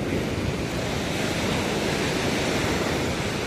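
Ocean waves surge into a sea cave as a loud, continuous roar of churning surf and rushing water that fills the space evenly, with no voices.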